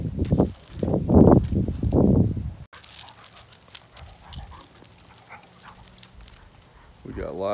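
Dog barks in a few loud, close bursts at the start, then softer whimpering and scuffling follow at a distance, with a brief yip near the end.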